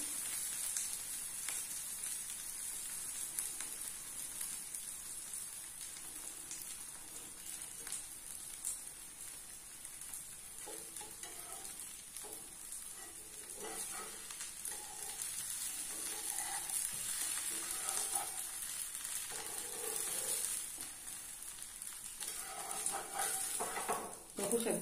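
Butter dosa sizzles steadily on a hot cast-iron griddle, a constant close frying hiss throughout with soft scraping and stirring movements in the middle stretch.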